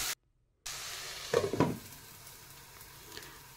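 Tomatoes cook in a pan with a low, steady sizzle, broken by a brief silence near the start and a burst of stirring scrapes midway, then settling into a quiet simmering hiss.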